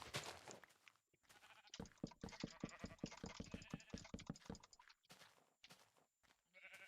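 Sheep bleating in Minecraft, a run of short repeated bleats close by, mixed with clicking game sounds and brief voice bits.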